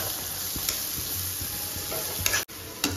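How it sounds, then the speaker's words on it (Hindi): A spoon scrapes and stirs chicken manchurian in a hot pan with a soft steady sizzle, a few clinks of metal on metal standing out over the frying. "अब हम इसमें चम्मच चलाएंगे"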